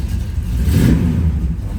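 A 1967 Pontiac Lemans convertible engine turns over and catches, then revs up loud and close before settling into a rumbling idle.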